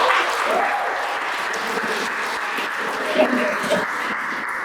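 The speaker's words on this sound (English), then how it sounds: "Clap for me." Audience applause fills a Nigerian speech event hall, a steady crowd clapping at moderate loudness with a few brief voices rising over it.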